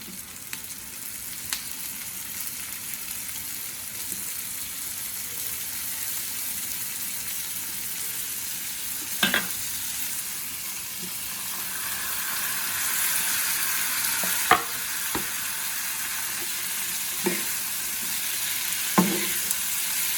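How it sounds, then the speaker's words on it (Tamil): Onions and tomatoes fry in oil for a dried fish thokku, a soft steady sizzle throughout, punctuated by a few sharp clinks and taps of a spoon against the pan. "வெங்காயம் ஃப்ரை ஆயிடுச்சுங்க. தக்காளி ஆட் பண்ணிடலாம்."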